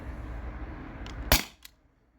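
A modified T4E HDP50 Gen 1 less-lethal pistol running on an HPA tank fires one sharp, loud pop after a few faint clicks, followed by a brief lighter snap, over low background rumble.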